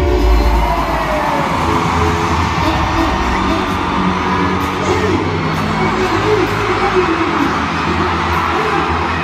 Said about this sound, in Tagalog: Sumigaw para sa ating main candidate, Bini Stacy.